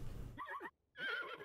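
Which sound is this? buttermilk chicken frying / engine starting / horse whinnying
horse whinnying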